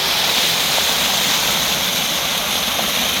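A canal pipe in Solapur leaks clean water that rushes without a break into a sewage drain, a loud, dense, unbroken roar heard up close, with no one speaking.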